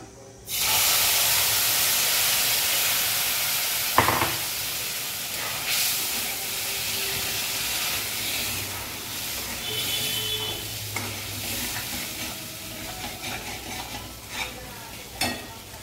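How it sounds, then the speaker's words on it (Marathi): Milk poured into hot roasted semolina for a sweet sheera, a loud burst of hissing sizzle and steam that gradually settles, with intermittent stirring clatter close by. "आता आपला रवा छान प्रकारे भाजला आहे। त्यात टाकूया दूध"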